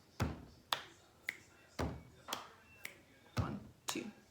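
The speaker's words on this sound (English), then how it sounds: "we're gonna do pat, clap, snap" A hand rhythm of pats, claps and finger snaps during a yodeling lesson, about eight crisp, evenly spaced hits, close and alone with no talking.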